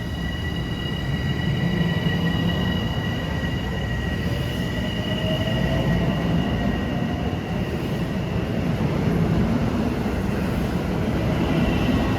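An LIRR train from West Hempstead to Penn Station rolls through Forest Hills station during the morning rush, a loud, continuous rumble with high wheel squeal throughout and no talk.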